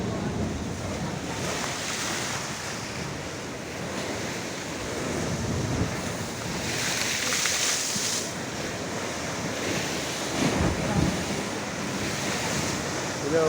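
Strong sea waves crash and surge against a seawall at the seaside, a continuous loud roar of surf with heavier bursts and wind buffeting the microphone.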